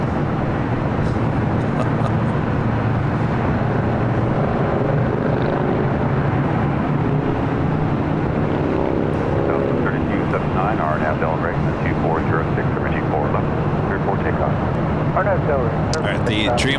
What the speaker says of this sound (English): The Dreamliner will take the bridge route over to the south side and head to Terminal 7.